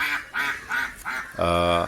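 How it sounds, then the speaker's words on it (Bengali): Several 52-day-old Pekin (Peking Star) ducks quack nearby in quick succession, four short calls followed by a longer, buzzy nasal quack, loud and close. "পিকিং স্টার হাঁস"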